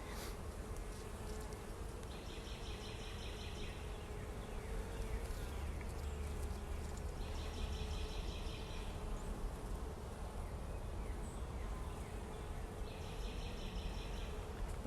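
Honeybees buzz steadily and densely throughout an open hive check on a calm day, a continuous close swarm drone with no talking.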